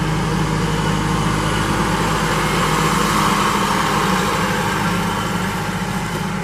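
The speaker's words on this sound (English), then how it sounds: "It's going to get a little noisy as the tractor driver walks by" A farm tractor drives past a parked travel trailer, its engine a steady, loud low rumble with idling throb that holds level throughout, with no talk over it.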